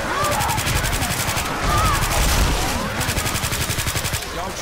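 Rapid automatic gunfire from the zombie shooter game Left 4 Dead 2, a steady rattling stream of shots that surges louder midway, with team voices speaking faintly under the barrage.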